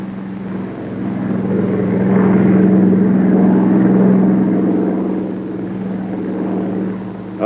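A Bell P-39 fighter's engine run up to full throttle, a loud, steady propeller drone that swells and holds a strong hum before easing back slightly, with no other sounds over it.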